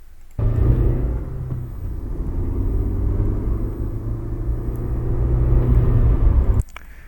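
A car engine sound effect in a Godot first-person horror game runs as a steady low rumble and whir for about six seconds, starting and stopping abruptly, rising slightly toward the end, with no other sounds.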